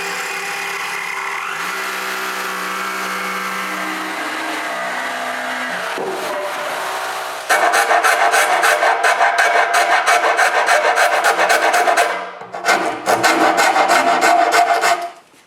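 Jigsaw blade cutting an opening in the top of a wooden box for a dust filtration system, starting with a softer rasp and then becoming loud, fast, buzzing strokes that break off briefly before resuming, with no talking.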